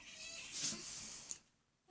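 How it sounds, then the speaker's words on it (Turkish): A domestic cat gives one drawn-out, close meow that rises and trails off, followed by a faint short sound and quiet. "Neden miyavlıyor bilmiyorum."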